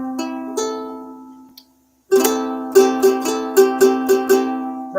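Acoustic ukulele strummed and plucked alone, close and bright: a few ringing chords fade out, a brief silence, then a steady run of rhythmic strums.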